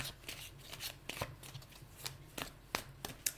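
Tarot cards being shuffled and drawn, giving soft riffling flutters and a few sharper snaps of cards set down, close and fairly quiet, with no voices.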